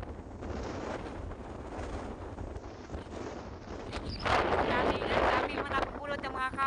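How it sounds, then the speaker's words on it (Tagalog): Strong wind buffets the microphone at the seaside after a storm, a harsh continuous roar with heavier gusts toward the end, while someone talks through it. "Super lakas po ng hangin"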